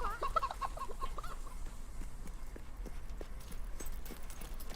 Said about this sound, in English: I hate these chickens.